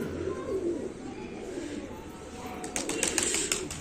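Shahjahanpuri pigeons cooing close by in low, soft, throaty bursts, with faint wing flutters and background noise.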